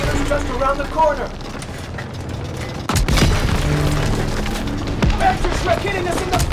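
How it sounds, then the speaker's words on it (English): Panzerschreck rockets slam into the front in a World War II Call of Duty battle, with a loud deep blast, splintering debris and continuing rumble under shouted voices. "Panzer Shrek hitting us in the front! We're getting beat up!"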